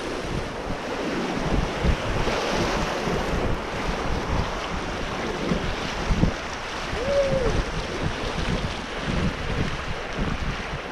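River water rushes through a weir on the Barrow during paddling, a steady close wash and splash of waves with wind buffeting the microphone and a brief faint squeak partway through.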